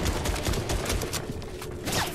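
Sustained rapid gunfire from a Warforged assault rifle in a multiplayer shooter video game, loud dense bursts of shots filling the whole moment with no pause.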